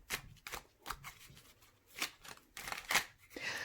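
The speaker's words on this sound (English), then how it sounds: "I'm going to shuffle this." A deck of oracle cards is shuffled by hand in a run of crisp riffling bursts, spaced irregularly, close and fairly quiet, with no speech during the shuffling.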